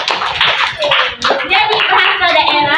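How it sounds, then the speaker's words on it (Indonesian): Children in a classroom clap together in a burst of brisk, loud applause that lasts a few seconds, with some overlapping voices mixed in. "Sekali, tepuk tangan buat kawan kita."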